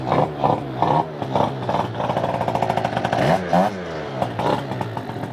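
A small two-stroke Honda Zuma scooter engine rattling and revving nearby in uneven bursts, the buzzing pitch rising and falling as the throttle is worked.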